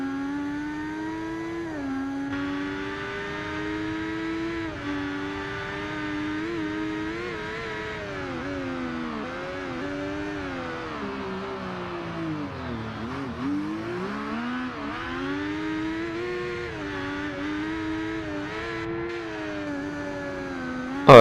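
A motorcycle engine in the Ride 2 racing game revs steadily during a stationary wheelie, its pitch holding high, dipping briefly, then climbing again in a continuous whine with no talking.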